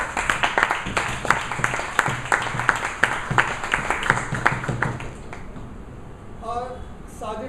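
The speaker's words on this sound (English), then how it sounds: "we can have a round of applause for our efforts." Meeting attendees give a round of applause, with distinct, fairly close individual claps over about five seconds that taper off before a speaker starts talking.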